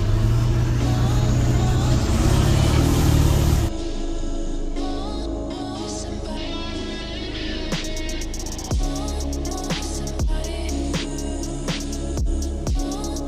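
A truck engine rumbles loud and steady, then drops to a lower idle, with sharp repeated clanks and knocks joining in toward the end.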